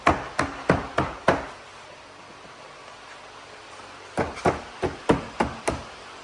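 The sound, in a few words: tapping rocker panel clips into place on a Ford Crown Victoria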